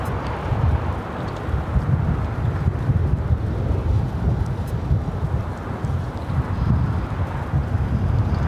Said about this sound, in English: Wind is certainly picking back up again.